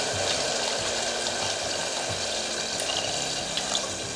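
Water pours into a pan of Hyderabad mutton masala cooking with tomatoes, giving a steady close rushing splash over a soft sizzle with no talk.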